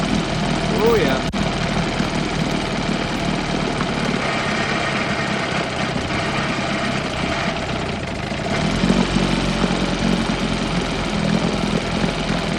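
An old Evinrude 18 hp outboard motor runs at a steady idle after sitting unused for years, its throttle creeping down, a continuous close engine drone with roughness and a brief change partway, with speech-like voices mixed in.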